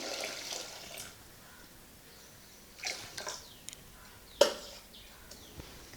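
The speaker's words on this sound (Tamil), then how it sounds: "கொள்ளு முங்குற அளவுக்கு தண்ணி ஊற்றி வேக வைக்கணும்" Water splashes and pours into a pressure cooker pot of horse gram in short bursts, with a few clinks and knocks along the way, fairly quiet overall.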